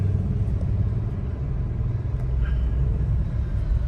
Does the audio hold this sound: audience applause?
no